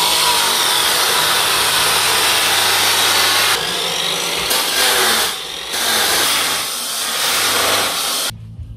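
A power tool cuts metal during a toy hauler trailer build, a loud, continuous grinding whine that shifts in pitch and eases off several times before stopping abruptly.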